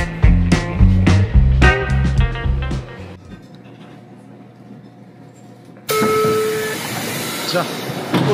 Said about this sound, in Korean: 저는 열차를 타고 호코다이마의 역으로 이동하겠습니다.